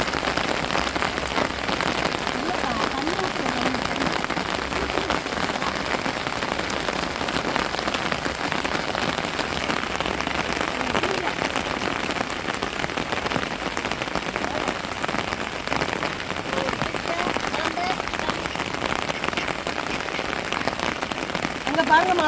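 Heavy rain pouring steadily in a Tamil village, a dense, even roar of drops on surfaces that holds throughout with no letup.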